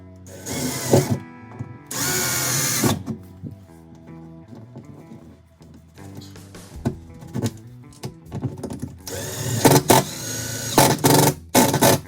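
A Milwaukee M12 impact driver sets hollow wall anchors to mount a coat or hat rack. Short bursts of motor whir and rattling hammering repeat several times, with pauses between them. The sound is close and loud, with no voices.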